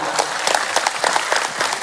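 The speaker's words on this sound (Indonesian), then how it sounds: "Tepuk tangan buat Pak Ahmad." An audience claps for Pak Ahmad at an Indonesian religious gathering, a dense burst of applause that carries on steadily for about two seconds with no voices over it.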